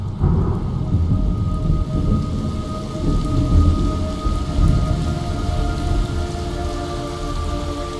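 Heavy rain and rolling thunder in the video game Metal Gear Solid: Snake Eater, a constant dense downpour with deep low rumbles swelling and fading, no voices.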